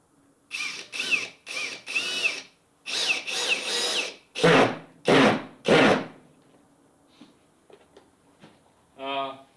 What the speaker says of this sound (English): we're going to put a few screws directly into the pallet